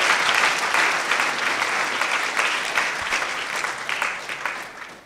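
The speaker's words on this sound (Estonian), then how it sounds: "Suur aplaus neile veel ja suured tänud kõigile." Sustained audience applause fills a school playback show hall, dense and steady clapping throughout, loud at first and easing slightly toward the end.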